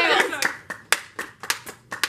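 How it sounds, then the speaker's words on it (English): Hands clapping in a quick run of sharp, close claps spaced a few tenths of a second apart, with a voice talking at the start. "Ariana is just clapping"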